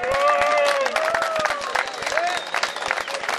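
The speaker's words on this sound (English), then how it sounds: "Big round of applause, please, ladies and gentlemen." Audience applause and some cheering at a football club's league championship presentation, dense clapping throughout with voices calling out and talking over it.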